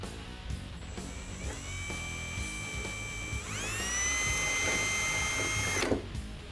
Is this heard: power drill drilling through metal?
yes